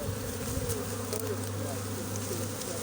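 A swarm of honey bees buzzes steadily inside a bush, a close, continuous drone with no voices over it.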